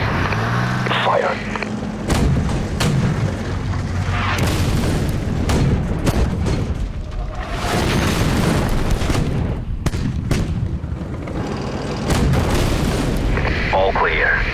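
Artillery fire in Armored Warfare, heavy booms and sharp cracks going off repeatedly in an intense battle mix, with vehicle rumble and voice radio chatter woven through.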